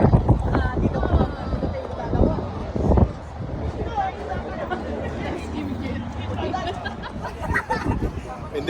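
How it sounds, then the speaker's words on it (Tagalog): Gusty, stormy wind buffets the microphone with a deep, rumbling roar that rises and falls, while people chatter underneath. "Malakas ang hangin."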